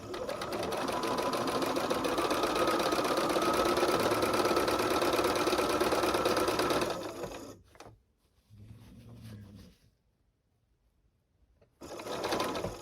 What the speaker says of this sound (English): I'm going to go ahead and put my needle up. And we'll sew this.